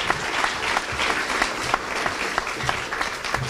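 An audience applauds playwright Tony Kushner at Columbia University's Edward M. Kennedy Award event, a dense, steady round of clapping from a large crowd that fills the room without a break.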